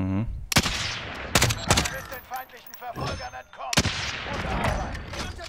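Sniper rifle shots in Call of Duty Warzone, a few sharp loud cracks spaced apart amid game noise, with someone talking over them.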